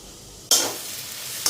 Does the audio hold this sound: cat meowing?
no